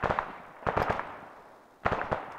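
Clusters of gunfire in the ARMA military game, short bursts of two or three sharp reports separated by a pause, moderately loud and somewhat distant.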